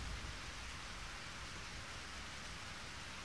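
Steady rain pours down in the PS3 game Eternal Sonata, a dense, even hiss that fills the whole moment without letup and with no voices over it.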